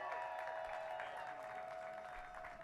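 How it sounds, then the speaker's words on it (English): An outdoor audience at a Hollywood Walk of Fame star induction ceremony for radio host Big Boy gives a round of applause, fairly faint and distant, with a steady tone humming beneath the clapping. "Let's give a nice round of applause to Big Boy."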